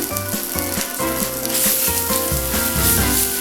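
Green chili paste and ginger garlic paste sizzle steadily in a hot pan for paneer, mutter and makhana curry, a continuous loud frying hiss with faint stirring, no voices.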